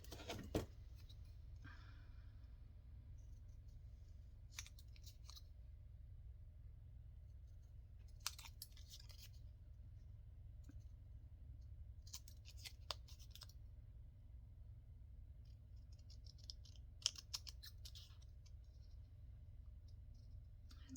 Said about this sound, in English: Okay, we got to cut these out.